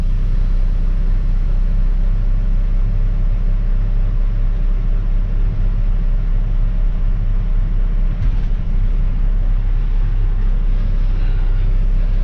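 A heavy truck reverses with its air brakes released during hookup work in 103-degree heat, giving a loud, steady diesel rumble that continues throughout, with a faint brief hiss partway through.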